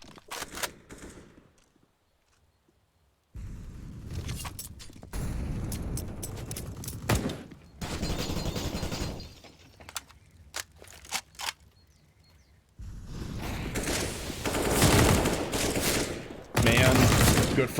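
Rapid bursts of gunfire crack out in Counter-Strike: Global Offensive on the Inferno map during an ESL Pro League match, loud volleys broken by short quiet gaps and scattered single shots.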